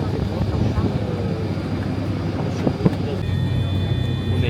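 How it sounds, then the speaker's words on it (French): Small propeller airplane engine heard from a seat right beside the propeller before takeoff, a steady loud droning roar that fills the whole clip with no speech over it. "On est carrément à côté de l'hélice."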